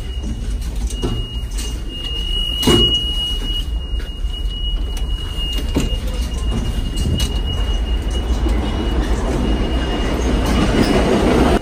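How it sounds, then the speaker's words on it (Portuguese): New York subway train running along the line, a loud, steady rumble of wheels with rail clatter, a brief metallic screech and occasional clunks, close and continuous throughout. "A gente pegou aqui uma linha de metrô."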